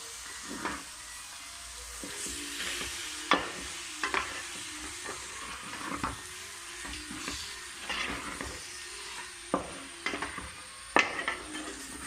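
Chicken stirred with masala in a pan for a Kerala-style chicken curry: repeated scraping spoon strokes over a steady, close sizzle, with no talking.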